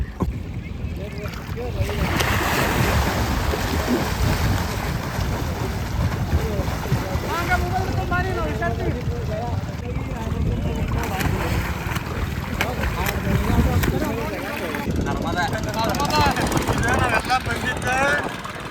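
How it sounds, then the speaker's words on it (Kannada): On the Narmada river, seen from a boat, water and wind rush loudly and steadily, with engine-like drone and people talking over it. "ಇದು ನರ್ಮದಾ ನದಿ"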